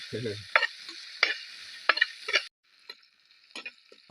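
Crushed ginger, garlic and green chilies frying in a pan, a bright sizzle pierced by several sharp spoon clinks, then cutting off to near quiet with a few faint scrapes.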